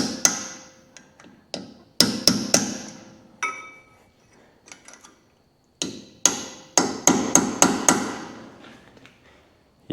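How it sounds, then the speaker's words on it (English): A hammer taps metal locking tabs over on a Toyota Hilux LN167 wheel bearing nut, sharp close ringing strikes in irregular clusters with short pauses between bursts. "And just knock your locking tabs over."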